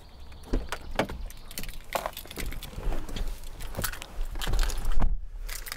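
Car keys for a 2010 SEAT Altea jangle and clink in short bursts, close by, with small knocks and rattles between them.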